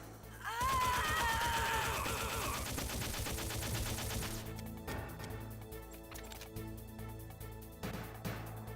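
Loud, rapid bursts of automatic gunfire in the video game Metal Gear Solid rattle continuously for about four seconds, then give way to quieter game ambience with a few scattered shots.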